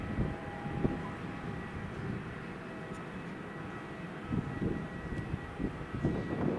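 TUI airliner lining up on the runway at Madeira Funchal Airport, a steady low jet-engine rumble heard from a distance with slight swells, no talking.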